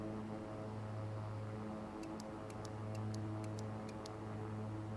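A King Air 350 turboprop airplane descending in flight makes a steady, even engine drone with a low hum throughout, and a few faint ticks cut in partway through.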